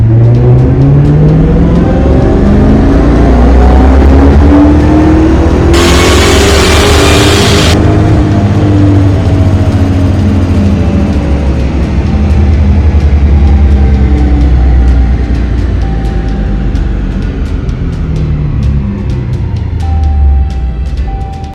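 A Dodge Hellcat supercharged engine fitted with a Cornerstone cold air intake runs on a dyno, loud and close, climbing through a long sustained rev with rising pitch and a whine, then easing back down.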